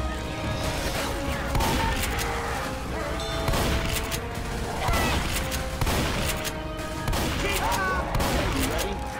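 Left 4 Dead 2 gunfire at The Riverbank in The Passing campaign: continuous rattling shots and bursts under frantic co-op action, with players calling out over the shooting.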